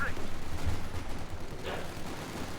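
MP40 submachine guns carried by Volksgrenadier squads rattle in a Company of Heroes battle, giving dense, continuous distant gunfire and explosions under a commentator's voice.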